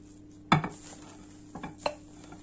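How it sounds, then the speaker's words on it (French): A silicone spatula folds cake batter in a bowl, giving soft, scattered scrapes and taps: one firmer knock, then a couple of lighter strokes a second later, all fairly quiet and with no talking. "On rajoute le reste délicatement avec la maryse."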